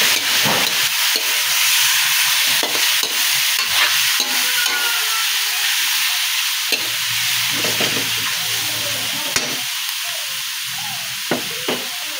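Chicken and mushroom frying in a pan, a loud steady sizzle and hiss with frequent scraping and stirring clatter throughout.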